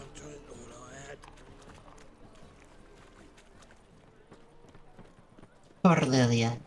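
Horses' hooves clatter in The Witcher 3: Wild Hunt, a run of quick clip-clops under game dialogue and sound, with a loud voice bursting in near the end.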